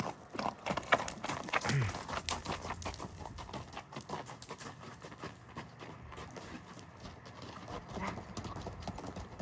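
A ridden racehorse's hooves clip-clop in a quick, steady rhythm on hard ground, moderately near and fairly faint, with birds and muffled voices in the background.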